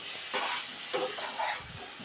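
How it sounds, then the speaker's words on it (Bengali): Potatoes frying in oil in a pan after browning, with the sizzle rising and falling in short bursts as they are stirred. "আলুগুলোও ভালো করে কষা হয়ে গেছে তেল ছেড়ে দিয়েছি"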